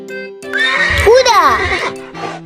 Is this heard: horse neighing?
yes